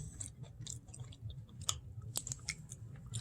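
Close, crisp crunching as someone chews a crunchy homemade cookie made with cornflakes, a steady run of small brittle bites and snaps over quiet room tone, with no talking.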